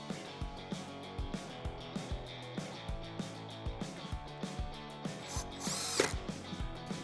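A 10mm socket on a ratchet tightens headlight bolts on a 2017-2019 Ford F250, making a steady, rhythmic run of close, crisp ratcheting clicks with a brief louder rattle near the end.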